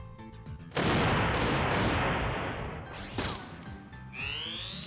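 An explosion in the video game Front Mission 3 gives a loud, sudden blast that hangs as a rumbling roar before fading, followed by sharper mechanical game sounds, with no voices.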